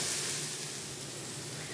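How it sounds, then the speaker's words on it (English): Onion cooks in a pan with a steady soft sizzle and hiss, continuous and even throughout, close up with no talking. "let's wait for this onion to cook a little bit"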